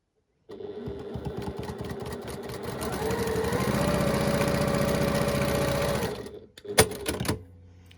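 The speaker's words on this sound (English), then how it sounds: "we just stitch 1/4 inch seam down the side" Sewing machine running a quarter-inch seam on a quilt block, a steady fast mechanical whirr with rhythmic needle clatter for several seconds before stopping, followed by a couple of brief handling knocks.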